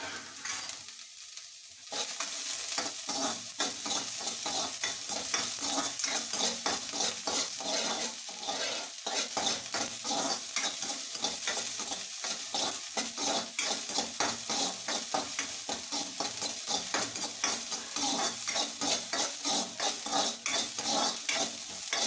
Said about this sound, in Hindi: सबसे पहले डालूंगी मैं इसमें कटा हुआ प्याज